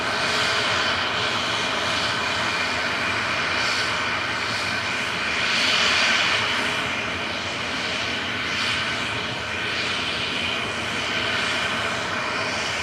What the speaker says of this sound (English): Aer Lingus Regionals GCMJJ departing back to Belfast with flight